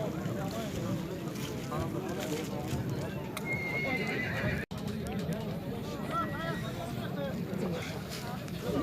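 Horses neigh and whinny amid hoof clip-clops at a busy livestock market, with steady crowd chatter and voices talking throughout.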